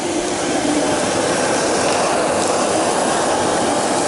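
A Sebo E3 Premium upright vacuum cleaner runs steadily and loudly, its brush roller switched on and off by foot, giving a dense continuous whir with faint mechanical ticking through it.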